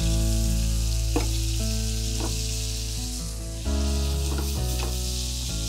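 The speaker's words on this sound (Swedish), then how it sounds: "och sen tar jag smör. Sen kan man ösa köttet lite grann." A pork chop fries in butter in a pan while being basted, a loud, constant sizzle with brief spattering bursts and a short lull before the frying swells again.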